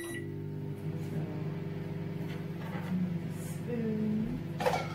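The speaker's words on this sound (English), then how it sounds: "what I'm going to do is microwave my butter and my peanut butter together" Microwave oven running with butter and peanut butter heating inside, a steady low electrical hum with layered tonal drone that holds for several seconds, rising slightly near the end, with no talking.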